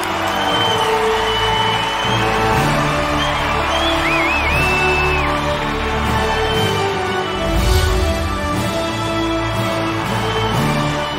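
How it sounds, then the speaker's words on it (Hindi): Audience at a Bhojpuri cinema award show roars with sustained cheering, whoops and shouting over a dense crowd wash, loud and continuous with a brief swell near the end. "एक जोरदार तालियां मनीष जी के लिए"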